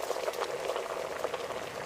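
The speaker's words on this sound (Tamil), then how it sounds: "கொதிக்குது நல்லா." Jaffna fried-egg curry boiling in an open pot, a steady bubbling and popping simmer heard close but quiet, continuous throughout.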